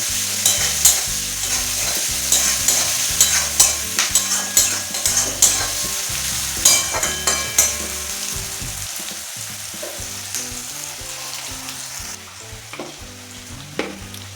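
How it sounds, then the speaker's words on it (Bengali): Chopped onion frying in a pan with green chillies, browning under steady sizzle while a spatula scrapes and stirs in repeated close strokes; no talking. "পেঁয়াজটাকে একটু লাল লাল করে ভেজে নিচ্ছি।"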